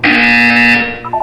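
A loud, harsh electronic buzzer from the video game Portal 2 drones steadily for about a second, then cuts to a brief higher electronic blip.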